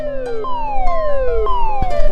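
A siren hat wails with a falling, swooping electronic tone that repeats several times, loud and close, with a steady pitch underneath and no talking.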